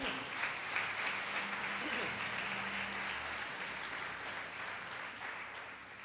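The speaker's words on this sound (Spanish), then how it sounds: "¿Puede darle un aplauso al Señor?" A church congregation applauds steadily during a sermon, a dense wash of clapping held at an even level throughout, with a faint voice or tone underneath.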